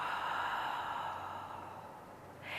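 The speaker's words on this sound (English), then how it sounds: "As you exhale, part your lips and breathe out." Someone exhales in a long, soft, airy breath through parted lips during a yoga breathing exercise. The sound is quiet and close, with a faint inhale beginning at the end.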